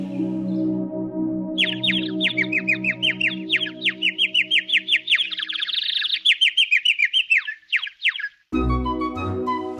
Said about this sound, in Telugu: 3వ రోజు వాళ్ళకి ఒక తెల్లటి పక్షి కనిపించింది. అది వీళ్ళకి పాట వినిపించింది.